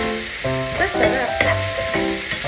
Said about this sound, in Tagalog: gisa-gisa lang ng steak